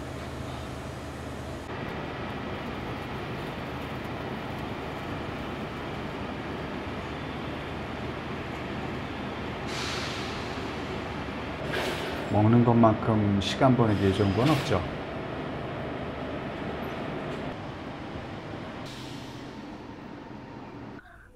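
A long-distance sleeper train runs from Huzhou toward Beijing, its steady rumble and rattle filling the carriage while a person talks over it, with a louder clattering stretch midway.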